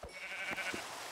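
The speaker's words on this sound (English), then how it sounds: "Is that another white sheep? It is." Sheep in the video game Minecraft bleat briefly, two or three short, soft, nasal calls close by with no talk.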